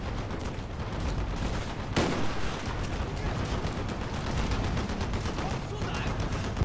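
Battle in the Call of Duty Black Ops campaign: constant heavy automatic gunfire and distant explosions form a loud, unbroken wall of combat noise, with a sharper blast near the start and faint voices underneath.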